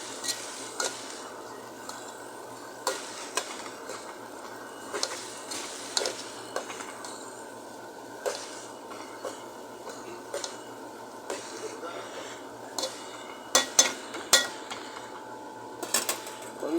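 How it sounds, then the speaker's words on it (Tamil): Spinach greens stirred in a cooking pot, giving repeated light scraping and clinking strokes of a utensil against metal, spaced irregularly over a soft steady background hiss. "இப்போ கீரையை போட்டுக்கலாம் தங்கங்கீரை அதையும் நல்லா கிண்டி விட்டுக்கலாம்"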